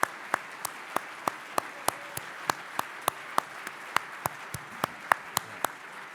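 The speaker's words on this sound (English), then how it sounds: "give them a round of applause" At a summit welcome, sparse applause sounds as a few individual sharp claps at a steady, moderate rhythm over a quiet room background, faint and spaced rather than a full crowd.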